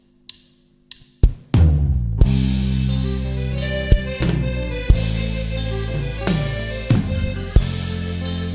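A live band kicks off a cumbia medley during a quarantine beer-and-music stream, starting with a few sparse hits before launching into a loud, steady groove with regular percussive accents.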